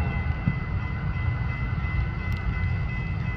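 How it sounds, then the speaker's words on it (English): Metra commuter train on the UP Northwest line arriving at Barrington station during evening rush, a steady low rumble of rolling cars and rail noise held at an even level throughout, with no horn standing out. "UP Northwest Main Line train number 655 to Harvard is now arriving."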